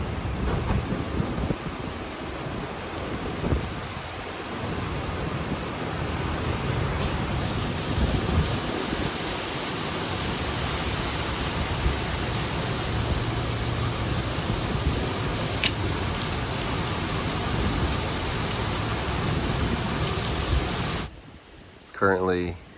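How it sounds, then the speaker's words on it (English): Steady roaring wind and heavy rain from Hurricane Helene buffeting the microphone at night for a long stretch, loud and continuous, ending abruptly with a brief muffled rustle. "wind's blowing, it's raining quite a bit."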